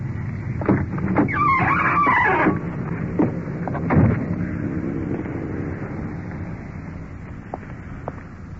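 A uniformed police car pulls up in front of a roadside motel, with a brief rush of engine and tire noise over outdoor wind, then fading to a steady low rumble with a few faint knocks.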